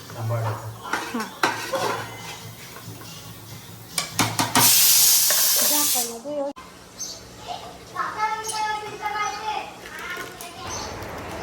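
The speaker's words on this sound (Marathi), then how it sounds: "आता अगोदर 10-15 मिनटं भाऊंनी हळदीवरतीच मारून घेतली कोलंबी आणि आता त्याच्यानंतर मसाला टाकतात वरून" Prawns fry in a pan with turmeric before masala is added: utensils clatter and scrape, with a short loud sizzling burst midway. People talk throughout.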